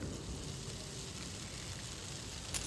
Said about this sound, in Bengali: ম্যাগিটা দেওয়ার পর সমস্ত সবজির সঙ্গে ম্যাগিটাকে ভালো করে ভাজা ভাজা করতে হবে